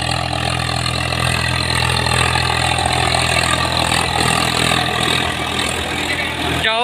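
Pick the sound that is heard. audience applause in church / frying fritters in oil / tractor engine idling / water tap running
tractor engine idling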